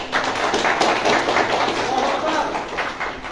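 A lecture audience claps throughout a religious talk in a hall, the applause a dense, steady patter of many hands that stays loud across the whole stretch with no voice rising above it.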